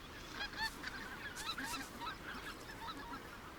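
White-fronted geese calling on the Russian tundra as the first spring arrivals, a flock giving repeated high honking calls at a moderate distance over a soft background hiss, with no voices.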